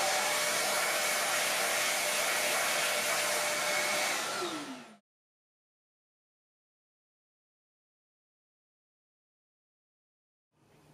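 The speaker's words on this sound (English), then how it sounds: "Let me quickly vacuum this up" A loud, steady vacuum cleaner whir runs for about five seconds while cleaning up plywood dust, then cuts off abruptly into silence before briefly starting again at the end.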